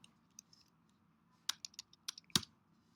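A computer keyboard used to enter an SSH lab command gives sparse, quiet key taps at first, then a quick burst of sharper clicks, each one distinct.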